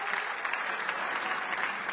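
A church congregation applauds heartily during a worship sermon, a dense, steady wash of many hands clapping at once that fills the space evenly from start to finish.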